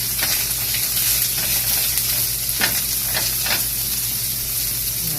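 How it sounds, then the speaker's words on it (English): Mild Italian turkey sausage and vegetables sizzle and fry in a pan, a steady close crackle with occasional stirring scrapes and no talk. "And got some mild Italian turkey sausage browning"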